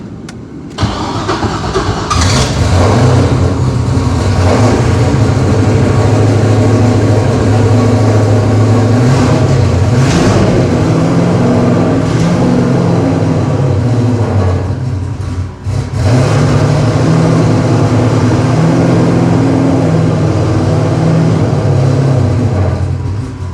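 Truck engine cranks over and catches, then runs loud and close with a steady low rumble, its pitch swelling and settling through a few gentle revs before dipping briefly and picking back up.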